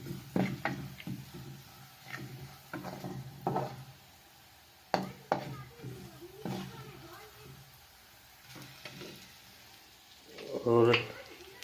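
Red chili frying in a pan for a goat brain dish, soft sizzling under scattered clinks and scrapes of a utensil, fairly quiet, with a voice speaking briefly near the end.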